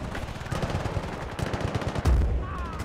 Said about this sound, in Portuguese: É por isso que eu curto as machine guns, é sempre para bombar.